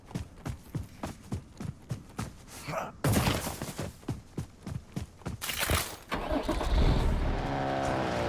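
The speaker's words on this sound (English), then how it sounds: "Oh, no way someone's stealing my truck," A truck in the shooter game Warzone, its engine note rising and surging as it drives off, heard close and loud under a fast, rhythmic pattern of game sounds.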